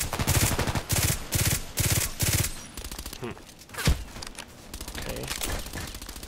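Rapid bursts of HK417 rifle fire during a game round, several loud shots in quick succession early on, then a sharper isolated crack, with a brief spoken word in between.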